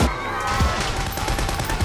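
Gunfire sound effect with rapid, dense bursts of shots crackling over a steady wash of noise, loud and continuous throughout the short stretch.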